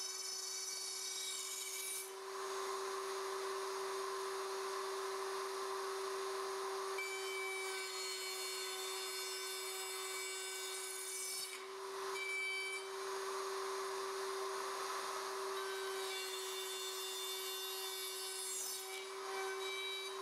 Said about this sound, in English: route in every open slot to widen the sockets to 3/4 of an inch.